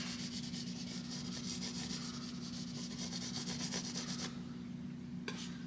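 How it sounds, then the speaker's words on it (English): Palette knife rubbing Van Dyke brown oil paint across a canvas to lay in flat sandy ground for a spring mountain landscape, heard as a steady, close, soft scraping swish that runs continuously, with no talk. "let's just rub, create a little sand here"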